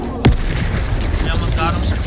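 A Confringo spell explosion in the video game Hogwarts Legacy: one sharp, loud blast near the start, followed by busy combat noise and faint voices in the background.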